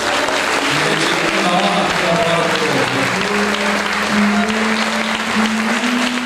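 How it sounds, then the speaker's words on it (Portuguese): A church congregation claps together in worship, a loud, dense, continuous burst of applause filling the room, with sung or called-out voices rising over the clapping throughout. "Eu peço uma grande palma para nosso Deus."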